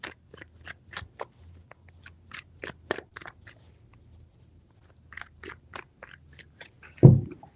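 Crisp, papery snaps of tarot cards being shuffled in a few quick bursts, close by, followed by a louder thump near the end.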